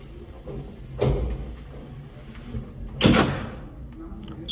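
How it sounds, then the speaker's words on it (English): Doors of a Montgomery tram elevator car at the Gateway Arch in St. Louis sliding open, two distinct rumbling thuds a couple of seconds apart over quiet background hum, with faint voices nearby. "So watch these doors open up."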